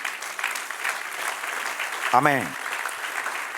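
A church congregation claps in steady, moderately loud applause throughout, while a voice rises briefly partway through.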